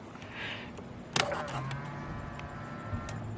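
Electric folding side mirrors on a Nissan R32 Skyline GT-R whir as their motors run, a short mechanical buzz followed by a sharp clunk and a thinner motor hum, heard close up in a quiet setting.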